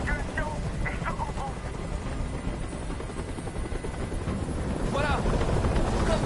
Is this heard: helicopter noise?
yes